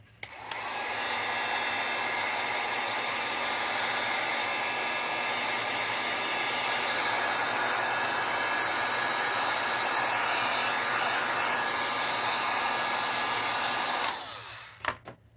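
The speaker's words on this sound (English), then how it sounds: "Let me just go over it really quick with the heat just to make sure it's dry." A heat tool blows a loud, continuous steady whoosh close by for about fourteen seconds while drying paint on a curly wreath rail, then cuts off abruptly.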